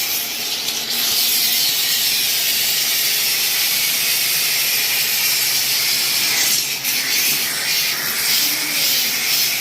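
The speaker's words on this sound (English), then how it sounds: "with the steamer, I'm cleaning and sanitizing the grout lines" A steam cleaner works along tile grout lines in a tiny guest bathroom, giving a loud, steady, close hiss that runs almost unbroken, with a brief dip partway through.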